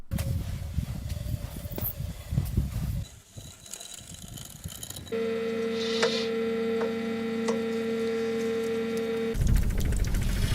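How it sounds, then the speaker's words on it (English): Solar-powered 3D printer sintering sand into objects using the sun's heat: a steady mechanical hum with bright whirring tones and faint clicks runs for several seconds, bracketed by rougher broadband noise at the start and end. "This artist created a 3D printer using the power and heat from the sun to make objects from sand."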